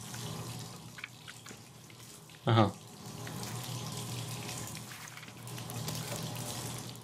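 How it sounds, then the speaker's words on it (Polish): A tap left running in the Deadpool video game, a steady wash of pouring water into a sink throughout, with a brief loud knock midway and a man briefly murmuring. "Czy ta woda się skończy?"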